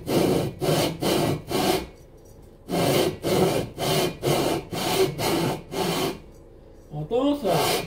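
Cox 1600 engine cylinder barrels are lapped onto aluminium heads by hand in a run of rhythmic, gritty rubbing strokes. The strokes come in two bursts of about five each, with short pauses between, close and loud, and a voice speaks briefly near the end.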